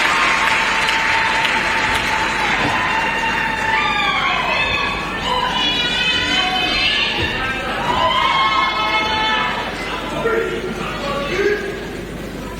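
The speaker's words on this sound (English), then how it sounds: "Let's put our hands together." An audience at a university convocation ceremony applauds and cheers, a dense sustained roar of clapping with whistles and raised voices, loud and close, easing slightly toward the end.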